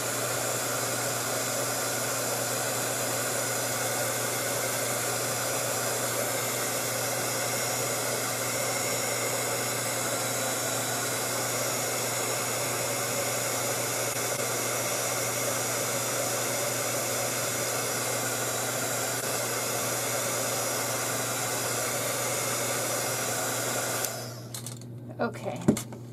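A hair dryer blows steadily and loudly to dry paint on paper, a constant whooshing drone with a motor hum that runs almost unbroken before cutting off near the end, followed by a few brief knocks and rustles.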